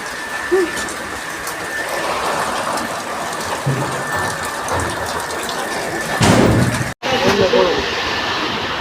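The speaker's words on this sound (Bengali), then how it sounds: "এই যে বৃষ্টি হচ্ছে এখন।" Steady rain falling over a rural village home, a dense, even hiss that fills the whole stretch, with a brief heavier thump and a momentary dropout near the end.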